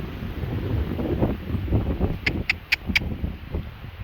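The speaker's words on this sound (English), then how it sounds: "It is very, very windy" Strong, steady wind roaring across an exposed trail during a windstorm, a constant broadband rush that buffets the microphone, with a few brief higher clicks or jingles near the end.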